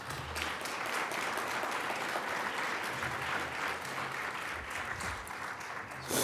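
After a lecture on AI and search engine algorithms, an audience gives sustained applause, a dense, even wash of many hands clapping that holds steady for several seconds at moderate loudness.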